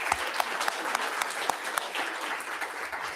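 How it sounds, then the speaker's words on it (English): A round of applause from the audience at a school board of education meeting, honoring a high school JROTC group: steady, dense clapping from many hands, moderately loud and continuous throughout with no talking over it. "Let's give the St. Paul's High School JROTC a round of applause."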